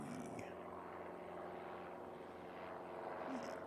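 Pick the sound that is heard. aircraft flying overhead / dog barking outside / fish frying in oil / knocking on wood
aircraft flying overhead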